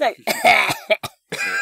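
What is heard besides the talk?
cough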